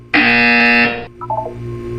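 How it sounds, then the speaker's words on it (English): A loud, steady electronic buzzer in the video game Portal 2 blares for about a second, then cuts off, followed by a few quieter descending electronic tones. "When you hear the buzzer, look up at the ceiling"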